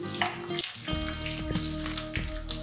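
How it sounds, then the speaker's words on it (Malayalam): Coconut pieces fry in hot oil in a pan for Kerala-style pork pepper fry, giving a steady sizzle with a few stirring scrapes and clinks. "ചൂടായ പാനിലേക്ക് ആവശ്യത്തിന് എണ്ണ ഒഴിച്ച് തേങ്ങ കൊത്തിട്ട് കൊടുക്കണം"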